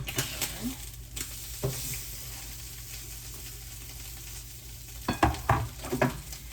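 Food frying in a pan on a home stove gets stirred and flipped, with soft sizzling underneath, scattered scrapes and clatters of the utensil, and a louder burst of flipping toward the end, heard close up.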